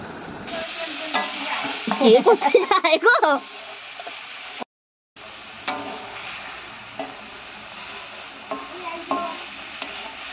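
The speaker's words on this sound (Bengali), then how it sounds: "তো একটু ভালো করে নেড়ে চেড়ে দেবো, ওলট পালট করে দেবো" Bhetki fish being stirred and turned over in a spicy gravy in a pan, with a scraping, sizzling run of strokes that peaks in a quick burst, a brief dropout, then softer intermittent stirring and faint background voices.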